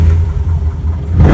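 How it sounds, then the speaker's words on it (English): A loud rally car engine starts and rumbles steadily at close range, its low drone swelling near the end as the revs climb. "Master switch on, ignition, start up."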